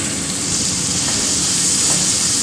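Chopped tomato goes into spices frying in a pan, giving a steady, loud, bright sizzle and hiss that continues evenly throughout, close by with no voices.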